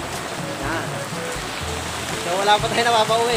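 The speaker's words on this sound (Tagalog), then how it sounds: "Sobrang lakas ng ulan dito." Heavy rain pours steadily as a dense, hissing wash at a pigeon loft during a racing pigeon event, while someone talks over it, the downpour swelling a little louder near the end.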